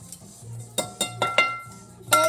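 Whisk scraping and clinking in a bowl of thick Christmas bath bomb mixture, a few distinct clattering strokes over a low steady hum, close and moderately loud.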